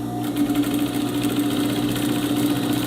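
A sewing machine stitches a ruffle onto a straight skirt, a close, steady buzzing whir that runs evenly from start to finish with no pauses.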